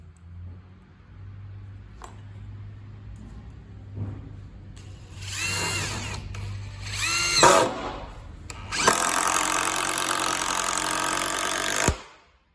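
Panasonic impact driver driving a Phillips screw, with a brief run-up followed by a loud, sustained hammering impact burst lasting several seconds, close and alone.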